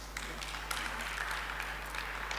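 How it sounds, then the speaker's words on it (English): Audience applause at a maternal and child health research conference: a sparse, steady patter of clapping from a distant crowd over a low constant hum. "I thought it would be clapping."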